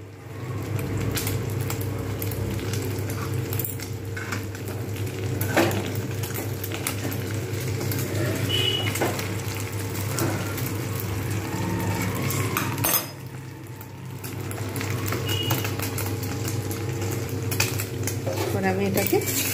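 Omelette frying in a pan for an omelette curry, a steady hiss of hot oil under repeated scraping and clinking of a spatula or utensil against the pan, continuous and close throughout.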